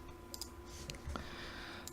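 A single soft mouse click, likely on an add-element button in the Unreal Engine editor, sounds faintly against steady low room noise with no talking.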